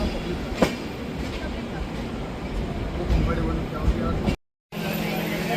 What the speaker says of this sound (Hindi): फाइनली 2:30 बज रहा है और पहुंच गई है ट्रेन रत्नागिरी रेलवे स्टेशन